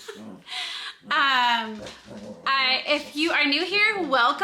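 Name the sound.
dogs playing and whimpering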